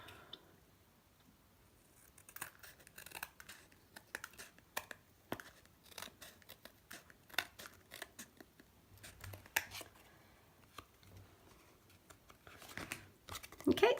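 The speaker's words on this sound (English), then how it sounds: "I'm just using a pair of scissors, try and get all these out the way." Quiet, repeated snips of scissors cutting through card, a scattered run of short crisp clicks with brief pauses, close by and fairly faint.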